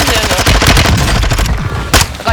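Rapid bursts of automatic gunfire in a video game, dense and loud with sharp repeated shots filling the whole stretch, a heavier blast near the end, and a voice partly under the firing.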